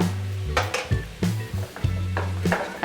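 Finely chopped green chillies are stirred in a pan while fish pollichathu is prepared. A spoon scrapes and knocks against the pan in uneven strokes over a low steady hum, with no talk.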